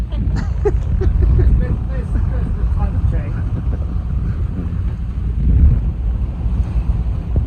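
Sailboat motor sailing out of Gibraltar in about 15 knots of wind, with steady wind buffeting the microphone, a low engine drone and water washing against the hull, plus faint voices at times.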